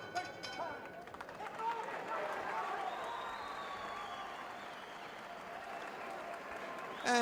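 Arena crowd at a boxing match in the Auditorio Benito Juárez, Guadalajara, Mexico, a steady broad roar and murmur of many spectators lasting throughout, with a commentator talking over it.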